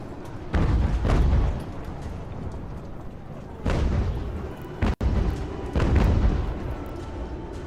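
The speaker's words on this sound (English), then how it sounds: "Our mortars can actually fire there." Mortar and artillery fire in Ultimate General: American Revolution lands as three heavy booming volleys, each with a rumbling tail, spaced a few seconds apart and fairly close.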